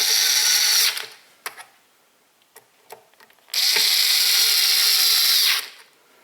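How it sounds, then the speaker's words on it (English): A power screwdriver runs in two loud, sustained bursts, each lasting about a second or two, while screws are driven into a KitchenAid Professional 5 Plus stand mixer. Small clicks and handling noises sit in the quiet gap between the bursts. "you start all the screws before you tighten any one down"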